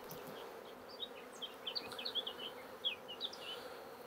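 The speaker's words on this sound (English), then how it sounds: "I'm just going to shake the bees off this one" Honey bees shaken off a hive frame buzz in a soft, continuous swarm hum with scattered individual passes rising above it, close but faint.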